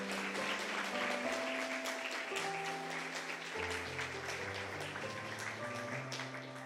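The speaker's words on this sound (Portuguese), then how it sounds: "Eu queria que você aplaudisse ao Senhor Jesus por isso." Congregation clapping during a church service, soft scattered applause beneath sustained organ or keyboard chords that shift in steady harmony.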